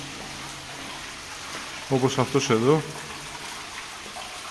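Storm-drain water trickles into the underground Sapfous stream beneath Marousi, a soft, steady hiss of flowing water echoing in a concrete tunnel, with someone speaking briefly over it midway.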